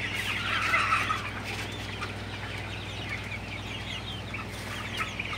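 Sonali super hybrid chickens sitting before a fan on a hot farm cluck softly and continuously, a low steady fan hum beneath them, moderately distant with no talking.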